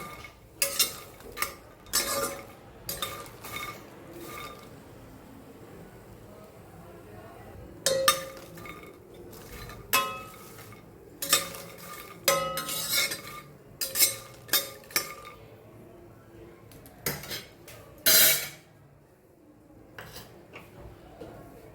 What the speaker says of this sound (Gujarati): થોડા ગોલ્ડન બ્રાઉન જેવા મસ્ત ધીમા ગેસે શેકી દેવાનું